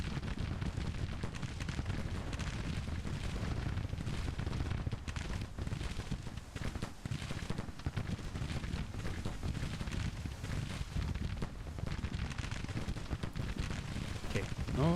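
Cannon artillery fire in the Grand Tactician battle game, a constant rumbling roar of distant booms and crackling volleys blending into heavy continuous noise, with a voice faintly beneath it.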